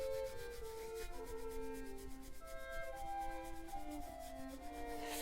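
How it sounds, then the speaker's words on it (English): Hands vigorously rubbing the knees during a workout warm-up, a steady brushing friction that runs continuously under background music. "Give your knees a bit of love. Vigorous rubbing."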